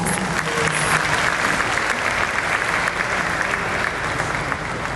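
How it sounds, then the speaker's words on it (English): A large audience at a live SEBI launch event breaks into a big round of applause, dense and steady throughout, loud and close with no talk over it. "Let's have a big round of applause."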